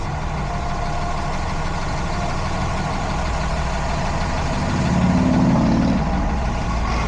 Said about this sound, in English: diesel truck next to me, super loud.